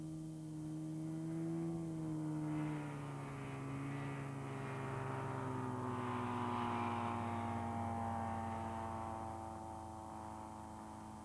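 A small propeller ultralight trike plane drones overhead, a low steady engine hum that slowly shifts in pitch as it passes, fairly faint with no voices.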